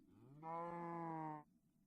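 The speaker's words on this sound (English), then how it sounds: "Yes, cow, I hear you." A cow in the Minecraft video game lets out a single drawn-out moo lasting about a second, fairly loud and close, with no talking over it.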